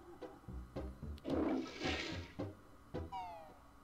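A cartoonish toilet flush from the Banjo-Kazooie video game gurgles and swirls over a few seconds, broken by short blips and squeaky effects, with a rising whistle-like sound near the end.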